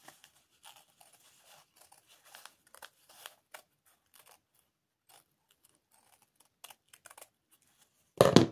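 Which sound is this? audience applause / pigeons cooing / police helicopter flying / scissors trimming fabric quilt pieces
scissors trimming fabric quilt pieces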